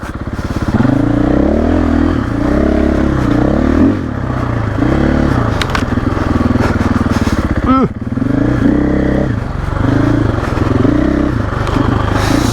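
A 2024 KTM 500 EXC-F motorcycle engine revs and drops repeatedly up close, rising and falling in pitch with sharp bursts, and a voice talks over it at times.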